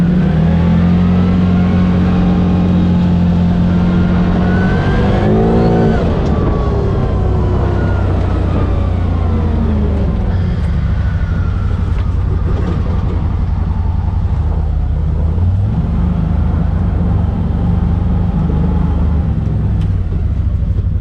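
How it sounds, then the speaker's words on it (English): A CFMoto ZForce 800 Trail UTV's smooth 800 engine accelerates up a driveway, a loud continuous drone with a pitch rise partway through, rolling steadily throughout with no talk. "Just accelerating up the driveway, you can tell how smooth it is."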